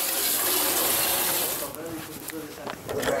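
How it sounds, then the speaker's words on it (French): Hot water at about 40 degrees pours steadily into the tank of a deep fryer, a broad continuous rush that eases slightly after the first half with faint clinks and gurgles. "Tout ce que vous avez à faire, c'est remplir la cuve avec de l'eau chaude"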